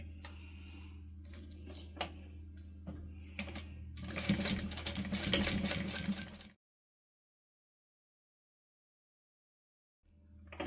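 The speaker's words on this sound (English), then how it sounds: "We are going to go to the machine and we are going to sew this on 1/8 of an inch" Sewing machine stitching fabric along tape about 1/8 inch from the edge, bursts of rapid needle clatter building to a dense run before stopping, then silence and a brief restart at the end.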